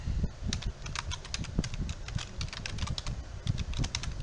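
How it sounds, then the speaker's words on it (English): Steady typing on a computer keyboard while an email address is entered, rapid clustered key clicks close and continuous throughout with no talking. "I'll type in my email address"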